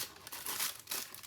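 A small plastic piping bag crinkles and rustles as it is handled for resin pouring, in two or three soft crumpling bursts close by, with no talk.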